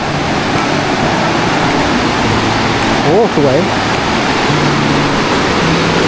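Steady broadband roar of Tat Ton waterfall in Chaiyaphum, heard close and continuous from a bridge over the stream, with a brief exclamation from a man partway through.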